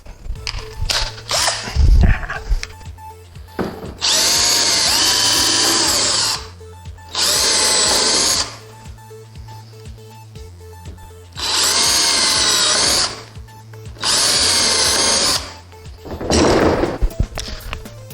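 A power drill bores holes into a kayak in four loud bursts of whirring spin, each lasting a second or two, separated by pauses filled with handling knocks and a low hum.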